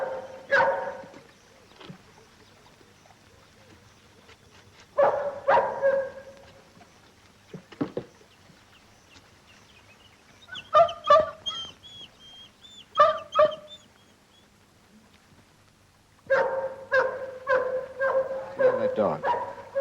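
A dog barks in short bursts spread across the clip, with high whimpering whines between the barks, fairly close and loud.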